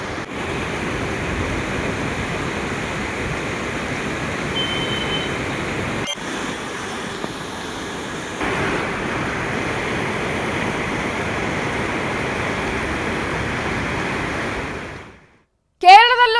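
Floodwater of the swollen Ghataprabha river rushes past a nearly submerged bridge at Dhavaleshwar, Belagavi: a loud, steady, broadband roar that holds for about fifteen seconds before cutting off, followed by a brief different sound at the end.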